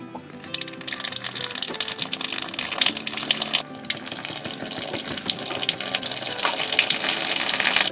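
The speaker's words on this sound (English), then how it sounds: "the water from your tank and your system will just drain out of these lines underneath the van" Water drains out of the hot and cold lines underneath a Class B RV camper van with a Truma Combi system, a steady, loud, close rush and gush with no talking.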